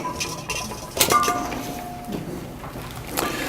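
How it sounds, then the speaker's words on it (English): A whisk beats dressing in a bowl with quick metallic clinks and scraping taps against the sides, irregular and close, with a few sharper knocks. "just kind of whisk that together"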